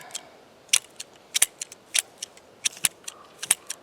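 Shears snip through thick growth in an orchard herb bed, sharp close clicks and cuts coming in irregular bursts, some in quick pairs, with quiet between them.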